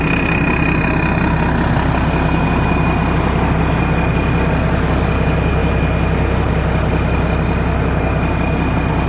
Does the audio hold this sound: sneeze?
no